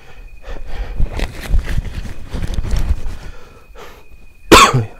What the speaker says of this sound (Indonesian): Aku agak batuk ya, karena flu.